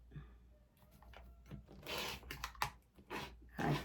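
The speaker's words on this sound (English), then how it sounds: "I cut off all, make a nice clean trim, make sure that it went through all the layers" Cutting through layered quilt fabric to trim the edge, heard as soft, close scraping and crisp snipping bursts in an uneven rhythm, quiet and without talk.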